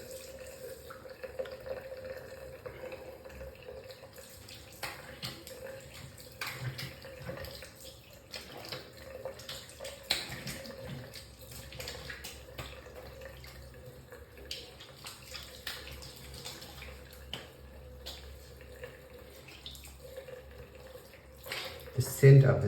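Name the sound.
water running while rinsing during a straight razor shave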